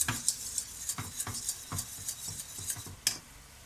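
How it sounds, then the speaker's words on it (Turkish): Spinach noodle börek sauce in a pot, stirred with scattered utensil clinks and scraping taps against the pan, a few sharp metallic knocks standing out over a low simmering sizzle. "Beşime sosum iyice kaynadı."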